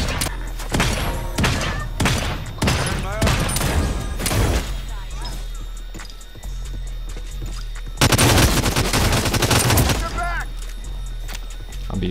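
Gunfire in the Realm Royale video game: repeated sharp shots in quick bursts, then a dense volley of rapid fire, loud and close, with players talking over it.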